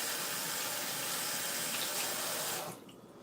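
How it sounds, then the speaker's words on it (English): Water from a running kitchen tap splashes steadily over a hand being rinsed, then the flow is shut off and the sound drops away near the end. "Rinse my hand off."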